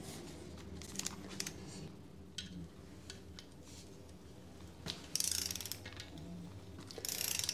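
A ratchet wrench clicks in quick bursts while tightening a spring force bolt hanger, close and moderately loud, with short pauses between strokes over a low background hum.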